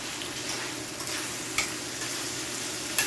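Jamaican saltfish fries in a pan with a constant, close hiss and crackle that runs unbroken throughout, marked by two faint, sharp ticks and no talking.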